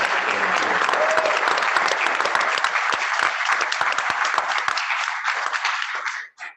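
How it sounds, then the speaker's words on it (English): A crowd at a Kiwanis Club meeting applauds steadily, dense clapping filling the room for several seconds before tapering off abruptly at the end. "can we give a round of applause one more time?"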